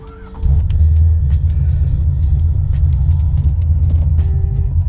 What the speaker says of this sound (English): We're gonna take this for a little test drive and see if we can tell a difference.